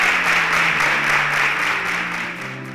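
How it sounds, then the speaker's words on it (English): A studio audience at a televised singing competition applauds a departing contestant, a dense, loud, continuous roar of clapping that slowly eases toward the end, with backing music tones underneath. "Please, a round of applause for Kofo as you exit."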